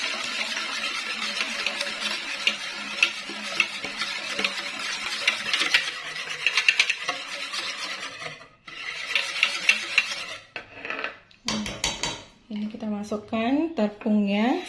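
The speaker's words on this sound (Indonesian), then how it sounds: "Dan kita aduk rata." Eggs, coconut milk and water stirred in a bowl for a gluten-free premix batter, a steady scraping, clinking whisk sound close by, with breaks and some brief louder knocks near the end.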